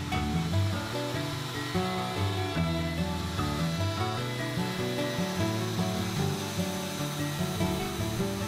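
Power tool cutting wood while building a rolling computer work desk, with a steady rasping cut running throughout and no speech.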